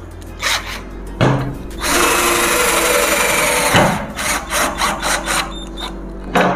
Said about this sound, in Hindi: आप देख सकते हैं एकदम पूरे परफेक्ट फास्ट स्पीड में सेल्फ ड्रिलिंग स्क्रू लग रहे हैं।